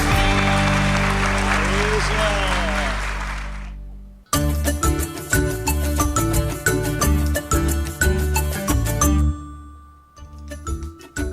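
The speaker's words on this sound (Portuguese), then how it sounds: "Aplauda o Senhor." Church congregation at a Sunday morning worship service applauding, a sustained burst of clapping with bright tinkling and ringing tones mixed in, following a stretch of voice and music.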